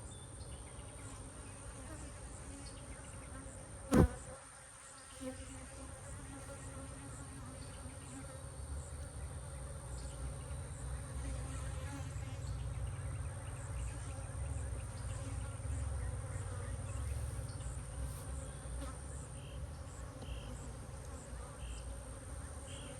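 Honeybees hum steadily at Elm Grove Apiary during a hive inspection, a continuous low drone that persists throughout, with one sharp knock near the start.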